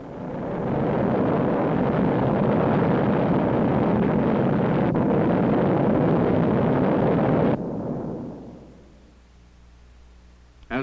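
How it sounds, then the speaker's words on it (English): Rocket engine static test firing on a mountainside test stand, a loud sustained broadband roar that holds steady for about seven seconds, then cuts off abruptly and leaves a low fading rumble. "Then the thunder of the engine bursts forth upon the mountainside."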